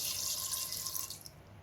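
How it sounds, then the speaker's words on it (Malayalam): Water runs steadily from a tap into a pressure cooker over soaked, washed chickpeas being readied for chana masala, a close, continuous splashing stream that thins out near the end. "കടല മുങ്ങുന്ന വരയ്ക്കുള്ള വെള്ളം ഒഴിക്കണം."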